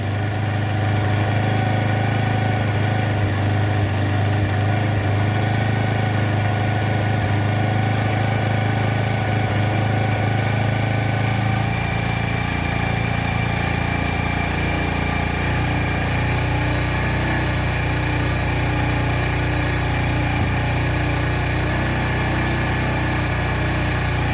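Old-model Bajaj Discover motorcycle engine idling steadily during an RPM screw adjustment, a close, continuous light putter whose pitch drops partway through as the idle speed comes down.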